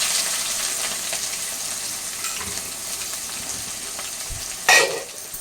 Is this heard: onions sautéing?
yes